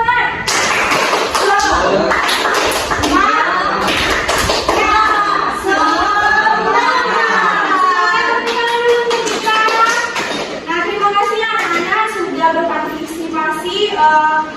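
A primary school class claps together in a quick rhythmic pattern, with taps and thumps mixed in as children's voices talk and call out over it.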